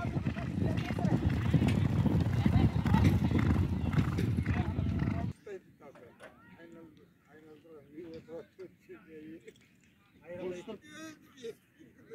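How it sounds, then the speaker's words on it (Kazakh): Racehorses in a 21 km long-distance village horse race thunder past in a loud, dense rush of hooves and crowd noise for about five seconds, then the clatter drops away to fainter, scattered sounds with voices. "Аттар 4-ші курыкта аяқтап келатыр"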